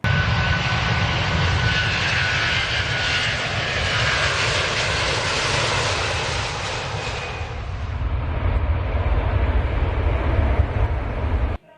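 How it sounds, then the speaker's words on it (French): An American Airlines airplane's engine roars in a loud, steady, continuous broadband drone that holds for nearly twelve seconds, thinning slightly in its upper hiss toward the end before cutting off abruptly. "Embarquons-nous maintenant au bord de l'avion American Airlines pour"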